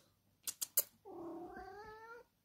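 Kittens meowing close by, a drawn-out wavering meow after three quick sharp taps.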